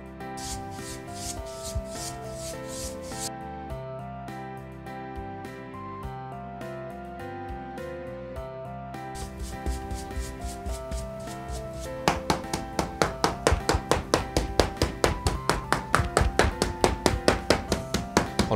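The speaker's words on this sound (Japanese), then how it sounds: "このハケで裏を叩く音っていうのが表具屋独特の音だなってよう思いますね。" A wide pasting brush beats the backing onto a silk hanging scroll during restoration in a Japanese mounting workshop, starting as a soft rub under a steady tonal background, then becoming a fast, regular run of close, crisp taps in the second half.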